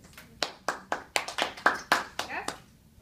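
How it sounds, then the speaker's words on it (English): Small classroom round of applause, about a dozen separate sharp hand claps in quick, uneven succession, fairly close and moderately quiet, fading after a few seconds. "can we give a round of applause for Kate"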